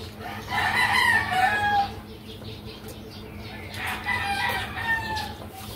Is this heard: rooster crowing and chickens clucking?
yes